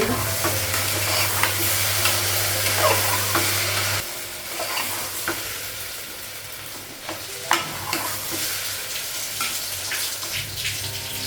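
Rice frying in a pan for pulao in a home kitchen, a steady close sizzle with stirring scrapes and clatter over a low hum, continuous throughout.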